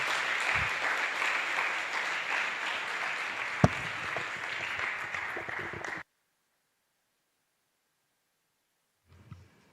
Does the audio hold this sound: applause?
yes